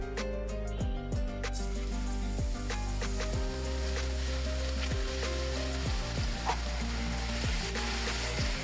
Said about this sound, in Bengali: আগে পেঁয়াজ বেরেস্তাটা করি